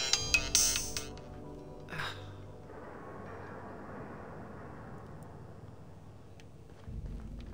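A phone ringtone sounds in The Outer Worlds video game, a bright burst of tones at the start and another at about two seconds, followed by a low steady ambient hum.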